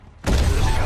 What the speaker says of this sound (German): Das war wohl eine Explosion, was?